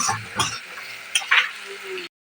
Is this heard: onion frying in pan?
yes